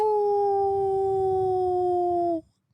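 A person imitates a werewolf howl with one long, sustained, steady wail that holds strong and close for over two seconds before cutting off abruptly into silence.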